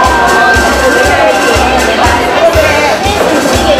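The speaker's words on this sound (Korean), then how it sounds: "축하의 박수 부탁드립니다" Applause and cheering from a crowd congratulating three newly appointed vice presidents at a singing instructors' association workshop ceremony, a steady loud wash of clapping with some voices and shouts mixed in throughout.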